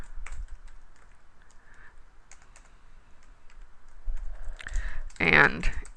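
Typing on a computer keyboard, a run of light, irregular key clicks at close range, with a louder burst of clatter near the end.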